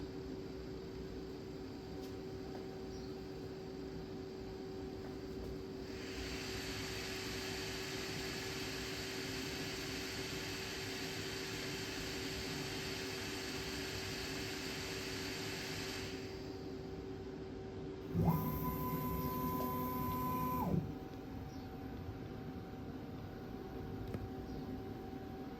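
An Original Prusa MK4 3D printer runs its self-test, a faint steady electrical hum with a long airy fan-like whoosh in the middle, then a short tonal motor whine, all quiet and without talking.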